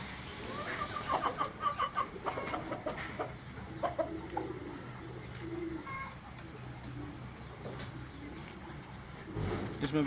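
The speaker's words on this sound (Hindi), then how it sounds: "एक और कबूतर जो है ये आप अफराज कियानी भाई के हाथ में देख रहे हैं।" Pigeons coo and flutter close by in a busy rooftop loft, with soft murmuring and occasional rustles throughout.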